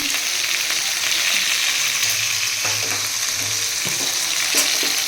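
Potatoes fry in oil with a little salt and turmeric in a home kitchen, giving a steady, close, continuous sizzle with faint stirring clicks throughout and no talking.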